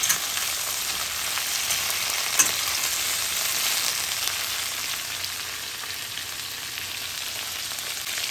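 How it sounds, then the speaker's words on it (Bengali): Round bitter gourd slices frying in hot mustard oil in a pan, a steady dense sizzle close up that holds evenly throughout, with no voices. "একটা প্যানে সরিষার তেল গরম করতে বসিয়ে দিয়ে এখন উচ্ছেগুলোকে তেলের ভিতর ছাড়ছি।"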